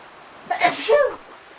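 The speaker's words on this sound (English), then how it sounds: "I'll have to sneeze" A single sneeze, a sharp intake followed by a breathy burst, heard up close against a quiet background.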